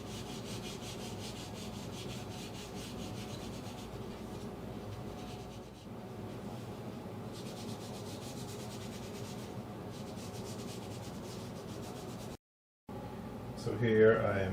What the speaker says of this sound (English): I'm gonna go and do the first sanding